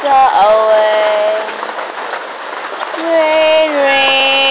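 Steady rain falls with a constant dense hiss of drops on surfaces while a voice sings over it.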